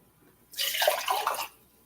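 Water runs into a jar for about a second as it is rinsed out at a kitchen sink. The splashing gush is close, steady and moderately loud, then stops, with no talk over it.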